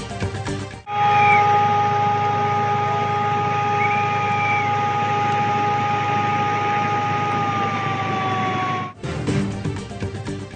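A flood warning siren sounds at Rawal Dam, a steady sustained wail with a slowly sliding pitch that holds loud and continuous for about eight seconds, alone with no talk.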